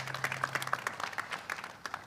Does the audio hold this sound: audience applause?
yes